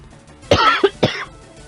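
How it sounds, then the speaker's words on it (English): A single person coughs during a Pokemon FireRed play session: two close, harsh coughs, the first longer and throaty, the second short, loud and near. "Sorry about the cough."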